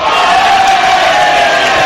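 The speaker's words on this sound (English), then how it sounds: "there's a knot of Gibraltar fans in front of us, and they're cheering every time one of their players wins a tackle, wins a header" A crowd of Gibraltar football fans at a Gibraltar vs Wales match roars and cheers loudly, a dense, continuous wall of shouting voices that stays close and steady throughout.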